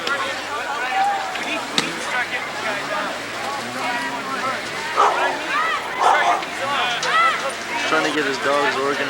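Many sled dogs at the Can-Am Crown sled dog race barking and yipping in an excited, overlapping chorus, close by and continuous, with some whimpering and people talking underneath.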